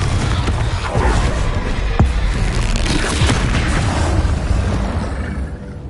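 Confringo fire spell detonating in Hogwarts Legacy on PS5, a loud sustained rumbling explosion with deep booming low end and crackling debris that fills the whole stretch before easing slightly at the end.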